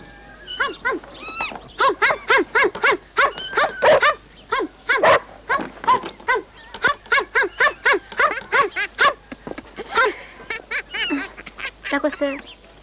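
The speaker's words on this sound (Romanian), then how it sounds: "Uite câinele! Uite câinele!" A dog barks over and over in a rapid, loud, close series of sharp yaps with brief pauses, continuing steadily for more than ten seconds.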